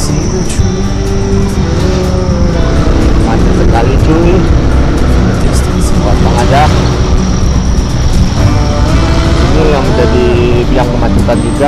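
Cars and engines revving and rolling in slow, congested traffic on a road through protected forest on the first day of a holiday, with tire noise and a voice talking over the continuous close, loud vehicle din.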